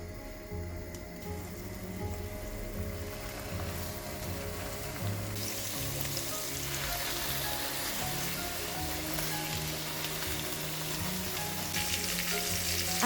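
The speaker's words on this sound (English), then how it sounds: "Get a nice golden crust on both sides of the duck breast." Duck breast sizzles steadily in a hot pan, a dense continuous crackle that grows slightly louder and brighter partway through, with no talking.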